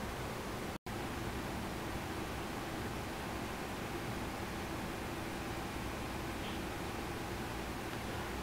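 A Panasonic F-Y103SW dehumidifier runs about 30 cm away, producing a quiet, steady airy hiss like a fan on low. The hiss is briefly interrupted once near the start.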